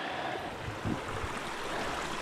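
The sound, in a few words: clear creek water running downhill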